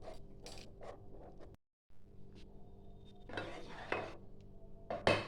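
A spoon stirs a sweet yogurt (mishti doi) mixture in a bowl, with soft scraping and clinks against the sides, a brief pause midway, then louder stirring strokes near the end. No one speaks.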